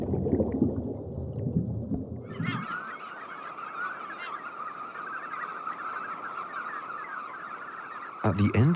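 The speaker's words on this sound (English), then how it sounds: "At the end of May, huge flocks of knot descend upon the fjord." A huge flock of knot shorebirds arrives at an Arctic fjord in late May, a dense, continuous chatter of many calls that starts abruptly partway through and carries on steadily, with no voices.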